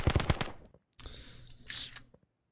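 Bursts of SCAR rifle fire in the Kirka.io shooter game: a quick rapid volley up front, then a short pause and a second, softer stretch of shots with a brief ringing tail, no talking.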